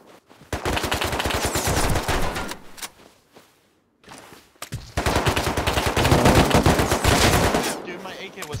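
Automatic rifle fire in a Rust force-wipe battle, two long dense bursts of rapid shots separated by a brief quiet gap with a faint clatter, loud and close.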